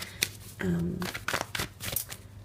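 Tarot cards shuffled by hand in a few quick riffling bursts, close and moderately loud, with a brief hum and some faint background noise between the flurries.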